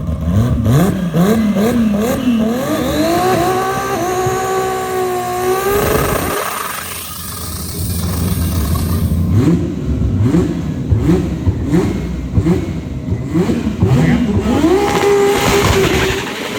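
Drag race cars at a Thailand drag strip, RB26, 2JZ, 4G63 and turbo diesel builds, rev hard and accelerate, loud and close, with overlapping engine pitches sweeping up and down and a brief lull before another car roars.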